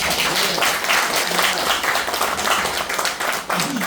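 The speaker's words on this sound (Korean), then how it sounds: "여러분 격려 박수 좀 한번 쳐주세요" Audience at a small business association gathering claps in encouragement, a dense and continuous wash of many hands applauding at steady loudness throughout.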